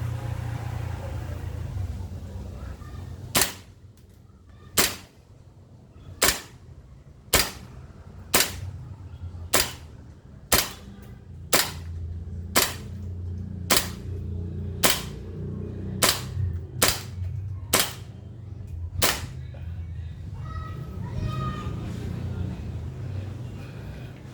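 An E&C Infinity Hi-Capa airsoft pistol fires about fifteen sharp, loud cracks at a steady, slightly uneven pace over a low rumbling background, with no talking between shots.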